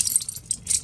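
Metal keys on an everyday-carry key clip jangle briefly close by, in two bright bursts of light clinking with no voices.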